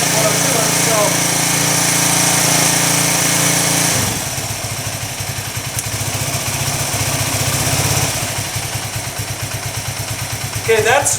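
A 1982 Yamaha XT200 motorcycle engine cold-starting without choke: a steady loud mechanical drone, then it catches into a rapid, uneven single-cylinder putter that runs close and loud until the clip ends.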